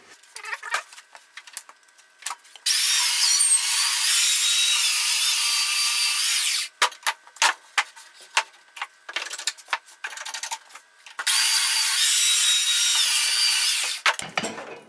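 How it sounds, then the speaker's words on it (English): A belt sander works over an arcade stick console in two long, steady, close and loud runs of gritty high whine, with short clicks and handling knocks between them. "Just going to touch on this with a belt sander all the way around."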